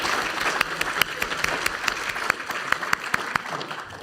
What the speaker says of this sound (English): please join me in thank them and give them a round of applause